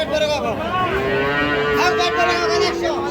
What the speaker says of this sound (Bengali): এইটা একটা সার বাছুর কিন্তু